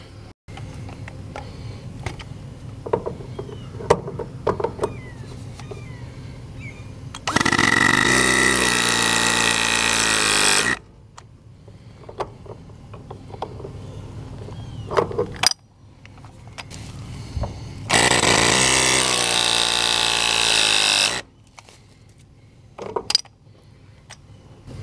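Two bursts of a Zoom Lock press tool crimp fittings onto an HVAC suction line during a kinked-line repair, each a loud, steady mechanical whir lasting about three seconds, separated by quieter handling clatter.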